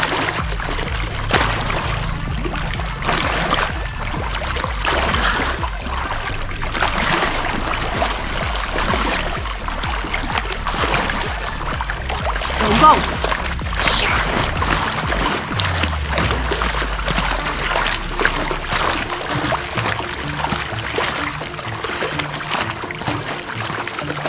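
Water splashes steadily in a pool during an aqua boot camp workout, a continuous close churning and sloshing with a brief swell near the middle and no voices.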